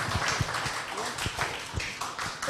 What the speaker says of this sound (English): Please, round of applause,